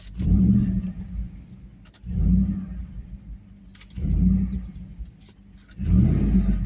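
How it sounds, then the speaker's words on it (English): A Hemi-powered Ram truck fitted with a K&N cold air intake and new exhaust, parked and revved four times, each deep, loud burst rising and falling back to a rumbling idle at even intervals. "give her a couple revs while we're parked here so you can hear it"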